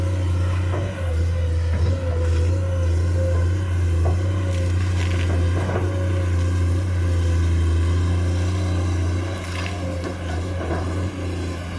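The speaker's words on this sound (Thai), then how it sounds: "ฟังเสียงเครื่องยนต์นะครับ เครื่องยนต์หกซูบนี่ของโกเป็นเอกลักษณ์นะครับ" The six-cylinder diesel engine of a new Komatsu PC210 excavator idles loudly and steadily, its deep rumble and throb continuous throughout, with slight rises in revs.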